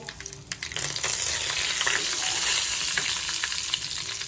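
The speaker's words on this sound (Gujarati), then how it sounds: "હવે આપણે સૂકું લાલ મરચું નાખી દઈશું, ચપટી હિંગ નાખી દઈશું, લીમડો એડ કરી દઈશું" Dried red chili, a pinch of asafoetida and curry leaves crackle and sizzle in hot oil, the frying swelling into a loud continuous hiss with faint stirring knocks.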